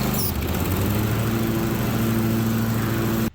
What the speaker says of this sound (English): So we'll go out and try it and finish mowing.